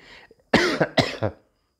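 Someone speaking in Hindi during a vocabulary lesson gives two harsh, close coughs in quick succession, each followed by a short rasp, after a brief faint sound.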